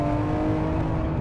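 A Nissan GT-R engine revs hard at half throttle toward 7,500 RPM, a loud, close, sustained droning roar with rising harmonic tones throughout the short burst.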